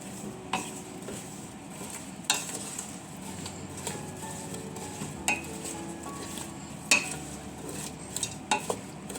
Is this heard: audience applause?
no